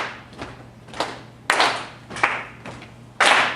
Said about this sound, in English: I like that the clap has a little more of a punch than the chest sound